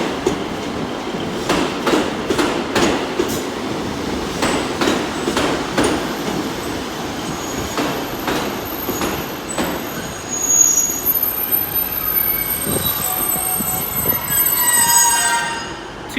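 Train running through Exeter St Davids station with squealing wheels and steady clickety-clack of wagons, a sustained loud pass that swells near the end.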